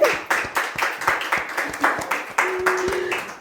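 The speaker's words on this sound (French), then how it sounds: "On applaudit, on applaudit." A small gathering at a Women's Day quiz game claps in a steady rhythmic beat, distinct individual claps in unison, close and fairly loud, with voices faintly in the background.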